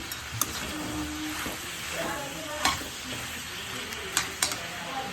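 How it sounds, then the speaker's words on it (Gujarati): Whole garam masala spices roasting in a kadai give a soft, steady sizzle with a few sharp clicks and taps from the stirring utensil. The sound is close and fairly quiet, with no talking over it. "આની અંદર આપણે બધા આખા ગરમ મસાલા નાખીશું. બધું શેકાવા દઈશું."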